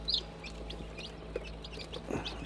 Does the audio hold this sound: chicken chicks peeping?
yes